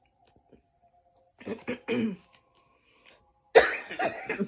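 A person coughs a few times in separate bursts, close up, ending with one loud, harsh cough; quiet pauses in between.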